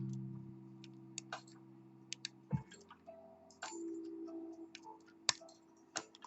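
Sparse, faint clicks from pins being picked in an SFIC lock core, scattered irregularly over a steady low hum, with a few sharper ticks standing out near the end.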